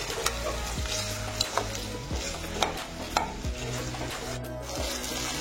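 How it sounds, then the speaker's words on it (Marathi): Okra being stirred and fried in a pan over a medium gas flame, a steady sizzle broken by repeated scraping stirs and soft clinks at irregular intervals, close and moderately loud with no voices. "भेंडीला आपण छान हलवून घेणार आहोत"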